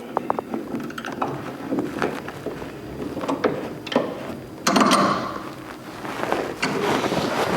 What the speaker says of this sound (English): I'm going to clamp this on this end.